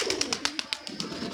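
A pigeon coos in a steady series of soft, rhythmic pulses close by, calm and unaccompanied by any voices.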